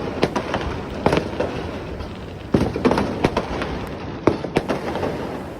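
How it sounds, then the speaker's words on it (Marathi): Firecrackers and bombs going off at an Ambedkar Jayanti street celebration, a string of sharp bursts and pops at irregular intervals, some loud and close, over a continuous crackling, noisy background. "खूप भारी बॉम्ब वगैरे फोडलेले आहेत"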